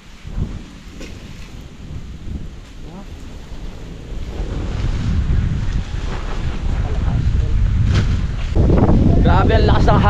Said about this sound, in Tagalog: Grabe ang lakas ng hangin ngayon.